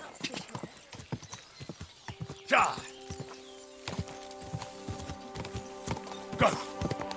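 Horse hooves clip-clop in a steady walking rhythm through a Kingdom Come game scene, continuing under background talk, with a couple of short brighter bursts cutting through.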